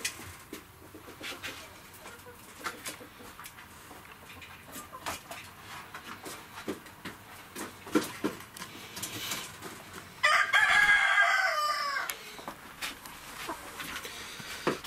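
Chickens cluck in a homemade coop at a dacha, soft scattered calls close by with a brief louder burst of squawking partway through, no talk.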